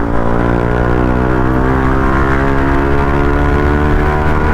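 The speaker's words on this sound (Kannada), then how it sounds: "ಇದರಲ್ಲಿರೋ ಎಕ್ಸಾಸ್ಟ್ ನೋಟ್ ತೋರಿಸ್ತೀನಿ. ಇದರಲ್ಲಿರೋ ಸೈಲೆನ್ಸರ್ ಬಂದ್ಬಿಟ್ಟು ಸಿಕ್ಕಾಪಟ್ಟೆ ಲೌಡ್ ಆಗಿದೆ" A TVS Apache RR 310 motorcycle with a very loud silencer booms out a steady, dense exhaust drone, close and continuous throughout with no voices.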